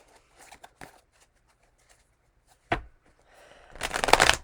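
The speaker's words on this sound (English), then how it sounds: "let's just pull 3 cards." A new tarot deck is shuffled up close, with a few soft card flicks and then a louder rush of riffling cards at the end.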